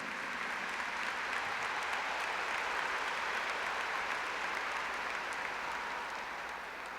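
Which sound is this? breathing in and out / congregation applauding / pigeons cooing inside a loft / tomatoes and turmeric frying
congregation applauding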